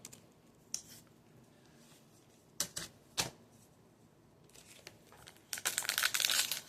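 A trading card booster pack of Rush of Ikorr torn open by hand, with sharp crinkling foil tears and crackles, quiet pauses between, building into a busier rustle of wrapper handling at the end.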